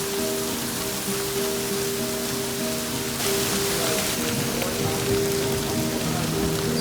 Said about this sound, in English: Then we also got this crazy hailstorm.